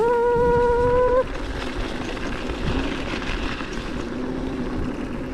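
A Joyor S8-S electric scooter at full throttle off-road, with a high motor whine for about a second that then gives way to steady rolling rumble and wind noise, close and fairly loud with no voices.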